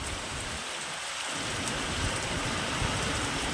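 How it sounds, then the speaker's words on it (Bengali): Heavy rain pours down in a constant dense roar of drops striking surfaces, loud and unbroken throughout, with no voices. "আর প্রচণ্ড বৃষ্টি হচ্ছে এখন"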